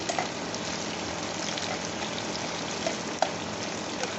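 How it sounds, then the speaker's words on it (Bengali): Onions and potatoes fry slowly in oil in a pan for chicken pulao, giving a steady, even sizzle throughout with one small clink of a utensil near the end. "এটা আস্তে আস্তে ভাজা হবে, একটু ব্রাউন মতো হবে।"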